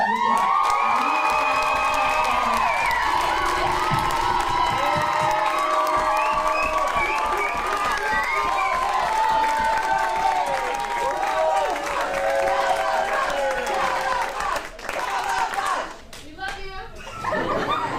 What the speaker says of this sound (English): I want you to give the biggest, loudest applause you can for Miss Maryanna.